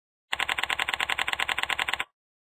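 A fast, even run of clicks from typing on a computer keyboard at a Bloomberg terminal, steady keystrokes lasting under two seconds then stopping, close and clear with no talk.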